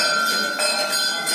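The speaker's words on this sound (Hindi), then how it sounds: "यहाँ पर घंटी बजा रहे हैं" A metal temple bell rung by a priest at a Shiva temple, Shri Bagh Bageshwar Dham in Chachaura, Madhya Pradesh, ringing steadily with a bright sustained tone and repeated strikes, loud and close.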